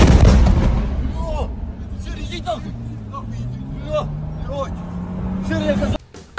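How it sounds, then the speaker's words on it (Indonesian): A loud, deep blast opens the clip, a secondary explosion at a target already struck by a Russian cruise missile. Rumbling fades beneath excited voices and chirping tones. "rekaman ini menunjukkan bagaimana sebuah ledakan susulan terjadi di target yang sudah terhantam oleh rudal"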